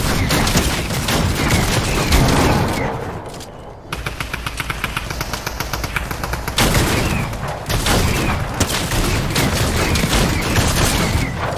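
Rapid gunfire from the video game Fortnite, dense bursts of shots filling most of the stretch with a brief lull near the middle, loud and continuous without talk.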